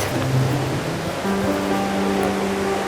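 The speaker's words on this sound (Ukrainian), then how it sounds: "Це мальовнича місцина, де вода поміж смарагдовими лісами і каменюками спадає із висоти 7 метрів." Kamianets waterfall in the Skole region of the Carpathians, with water dropping seven metres among rocks and forest, gives a steady, full rushing roar that continues evenly throughout with no voices.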